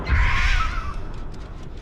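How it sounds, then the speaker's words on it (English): Crows cawing inside the game Dead by Daylight, a harsh burst of calls up close at the start that fades into a low rumbling game ambience. "And I guess we check the upstairs gen just by sending out some crows."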